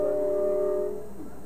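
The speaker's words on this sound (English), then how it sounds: "The train whistle." Train whistle sounding as one steady sustained blast with layered tones, fading out after about a second, moderately loud and heard alone.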